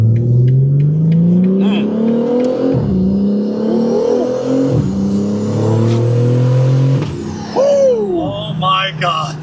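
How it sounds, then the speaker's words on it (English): A single-turbo Pontiac G8 (G8 X) with a single exhaust exit revs up repeatedly in rising pulls, loud and close, each climb dropping off before the next, with excited voices talking over it. "the single turbo sounds crazy"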